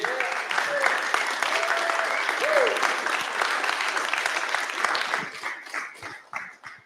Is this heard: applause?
yes